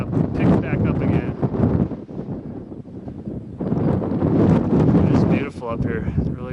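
Gusty wind on the Barr Trail up Pikes Peak rushes and buffets the microphone in waves, easing briefly mid-way before rising again, with a person talking over it.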